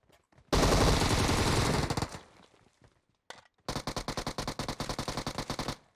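Automatic gunfire in PUBG at the Paradise Resort on the Sanhok map: a long, dense burst, then a short pause, then a second run of rapid, evenly spaced shots, all moderately loud with no talk.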